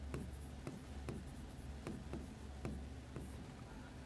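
Chalk or marker writing on a board during a maths lesson, heard as faint, quick scratches and taps at a steady pace over a low room hum.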